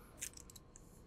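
Cutters snip the pigtail off twisted safety wire on a bolt pattern, giving a single faint, sharp clip followed by a few soft metallic ticks in an otherwise quiet space.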